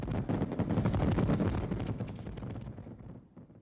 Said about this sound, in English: The festivities usually end with a brilliant fireworks show.